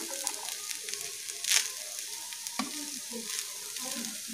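Rice stir-fried with vegetables in a pan, continuous close sizzle broken by scraping spatula strokes and a couple of sharp metallic knocks, moderately quiet with no voices.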